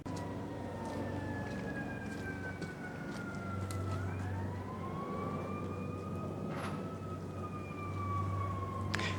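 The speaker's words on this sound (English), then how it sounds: "Just waiting for the siren to go by." An emergency siren wails steadily in the distance, its pitch sliding as the vehicle passes, over a constant low rumble of traffic.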